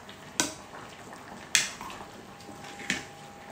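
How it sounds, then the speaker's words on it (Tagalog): Pork binagoongan is stirred in a pan, giving three sharp metallic scrapes and clanks of the utensil at spaced intervals over a soft simmering sizzle. "Haluin ko lang sandali."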